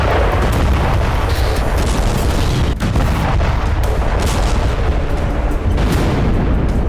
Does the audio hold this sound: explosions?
yes